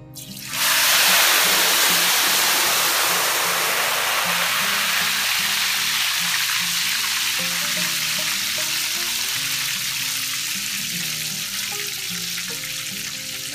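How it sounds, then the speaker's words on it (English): Tempura batter hits hot oil in a fryer with a sudden burst of loud, bubbling sizzle that holds steady and slowly eases, with faint background music underneath. "we're going to pour about 1/3 of this mixture into our fryer"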